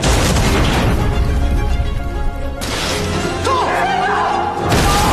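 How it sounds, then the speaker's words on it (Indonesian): A heavy explosion booms and roars, followed by rumbling debris and crackling, with a second blast hitting near the end. "Dia pun langsung meledakkan bom itu"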